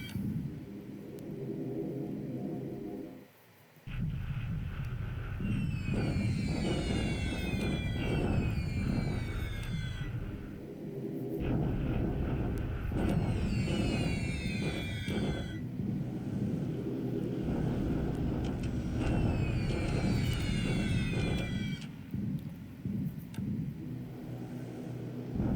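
Aircraft engines drone during a bombardment in the War in the Pacific strategy game, a steady, loud rumbling roar broken by repeated sweeping whines and swooshes that come in bursts over a continuous low hum.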